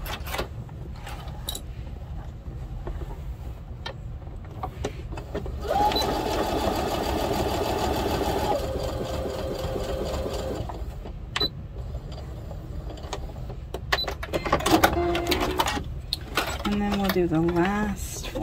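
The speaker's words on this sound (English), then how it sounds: "I'm only sewing about 2 inches and then I'm going to go all the way down to the end" A sewing machine runs close by, stitching a garden kneeling pad with steady humming runs and mechanical clicks, stopping and restarting between bursts, with a voice speaking at times.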